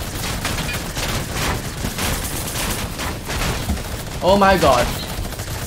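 Rapid SMG gunfire bursts in the video game Fortnite during an aerial battle, loud and close, mixed with game effects while players talk over it.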